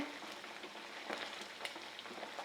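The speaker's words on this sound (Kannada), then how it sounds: "ನೋಡಿ ಚಟ ಚಟ ಚಟ ಚಟ ಅಂದರೆ ಇನ್ನೇನು ಬೆಂದಿದೆ ಅಂತ ಅರ್ಥ" Chicken popcorn pieces crackling as they fry in hot oil, a faint continuous sizzle with scattered small pops, heard alone.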